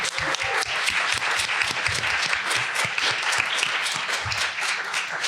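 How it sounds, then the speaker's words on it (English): Audience applause for panelists at a conference, dense, steady clapping from a sizeable crowd, loud and sustained throughout with no speech over it. "let's give another round of applause for our panelists"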